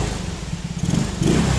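A Mio Amore scooter on its stock carburetor runs steadily close by, a throaty putter that swells as the throttle opens near the end and then settles back toward idle.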